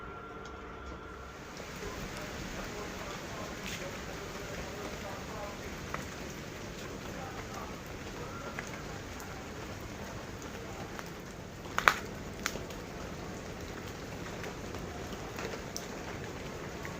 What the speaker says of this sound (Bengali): বৃষ্টি পড়তেই আছে, নামছিছে আবার বৃষ্টি নামছিল।